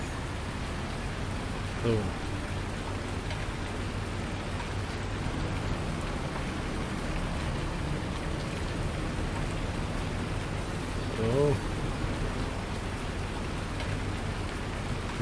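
Steady rain falling in the farming game Landwirtschafts-Simulator 19, a soft, even hiss throughout with a couple of faint brief clicks and a short spoken word.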